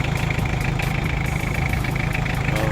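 Toyota 2C diesel engine, recently repaired after hard starting and low power, idling steadily with a dense, even rumble and rapid rhythmic knock, loud and close with no talk.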